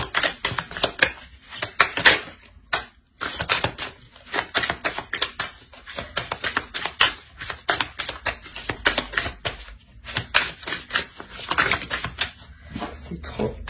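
Tarot cards being shuffled and laid out on a table, with dense bursts of crisp card riffling and slapping that come in waves, pausing briefly now and then, close to the microphone.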